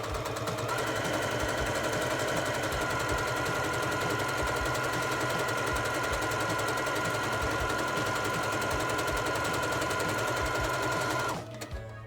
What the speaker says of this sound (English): I'm just gonna sew the two sides of the double fold bias tape down together.